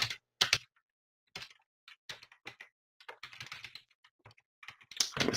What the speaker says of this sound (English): I'm going to type in the first letter.